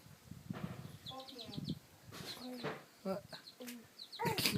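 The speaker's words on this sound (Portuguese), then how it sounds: "isso é pinto de chocadeira" A newly hatched incubator chick peeps in high, repeated chirps, close and clear, between stretches of people talking nearby.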